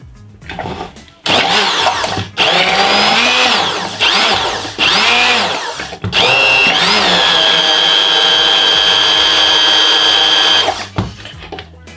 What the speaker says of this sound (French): C'est ce qu'on appelle tout simplement un mixeur plongeant.